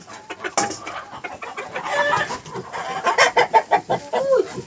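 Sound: hens clucking

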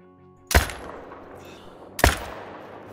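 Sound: rifle shots at a deer in theHunter: Call of the Wild video game

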